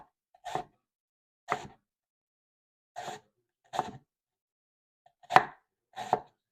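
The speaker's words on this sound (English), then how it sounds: "we're just gonna slice these onions up in small slices" Onions are sliced thinly with a knife on a board, six crisp isolated cuts spaced irregularly about a second apart, close and clear in an otherwise quiet room.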